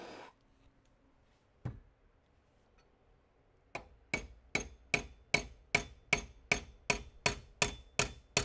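Metal hammer blows ring out on an anvil while repairing a dent in a Gew 88 bullet jacket: a couple of isolated strikes, then a steady rhythmic run of about a dozen sharp, loud hits.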